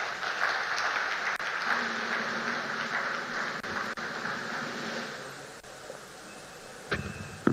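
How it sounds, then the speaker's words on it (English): An audience applauds after a minister's speech at an official launch, steady clapping from a large crowd that slowly thins and fades, with a few louder claps near the end. "Another round of applause."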